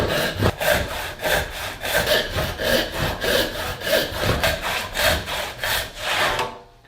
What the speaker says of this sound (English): use a wood saw to saw out our pattern